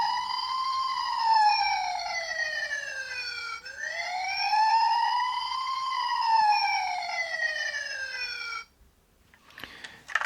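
A battery-powered toy emergency vehicle siren wails in rising and falling sweeps, bright and electronic, cycling twice before cutting off abruptly, followed by a brief rustle.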